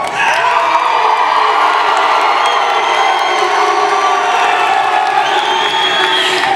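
Loud, dense cheering and applause from a high school graduation crowd greeting the salutatorian, with whoops and shouts rising over sustained clapping throughout.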